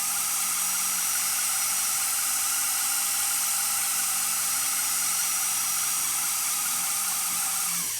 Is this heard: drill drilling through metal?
yes